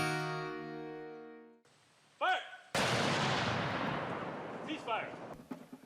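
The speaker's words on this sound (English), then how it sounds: "this model 1857 Napoleon cannon would bark 12 pounds of grape shot at a time towards the enemy" A loud blast from a model 1857 Napoleon cannon booms out and rolls away in a long echoing decay, following a brief stretch of other sound.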